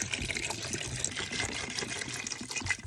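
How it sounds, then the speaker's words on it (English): An iron axe head found while magnet fishing is lowered into a container of rust remover liquid, giving a close, continuous watery gurgle and trickle for a few seconds with no talk. "This right here is rust remover. And we're going to submerge this axe head into this."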